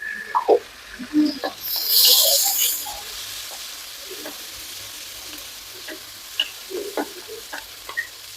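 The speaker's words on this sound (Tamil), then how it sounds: "தக்காளி போட்டு ஒரு 2 நிமிஷம் வதங்கட்டுங்க." Tomatoes sautéing with onion and curry leaves for a curry, a soft steady sizzle under brief stirring scrapes and clinks, with a louder burst of frying hiss early on.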